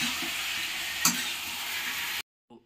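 Mutton being stir-fried in a pan for a village-style desi curry, a steady close sizzle with a brief louder stir near the middle, then it stops abruptly before a faint clatter.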